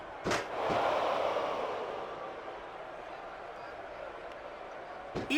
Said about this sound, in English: A sickening impact from that steel chair.